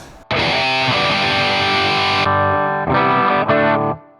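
A heavily distorted electric guitar through a Valeton GP-5 effects unit rings out in a sustained chord, then cuts to two shorter strummed bursts before fading, loud and alone.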